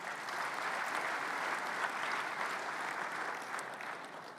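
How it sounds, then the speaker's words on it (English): Sustained applause from the audience at a conference closing session honoring event sponsors, a dense, even wash of clapping heard from a distance that holds steady throughout without talk. "Please give them a round of applause."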